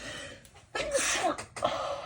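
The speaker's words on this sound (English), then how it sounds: "I feel like I'm going to sneeze" A single sharp sneeze bursts out close by, followed by a quick second explosive breath, with soft rustling before it.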